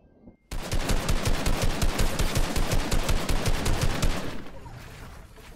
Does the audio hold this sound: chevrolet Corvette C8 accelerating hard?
no